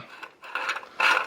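A plastic fitting for an Evolution Aqua Varipump pond pump is screwed onto its connector, giving a brief series of soft close-up scraping and ratcheting rubs.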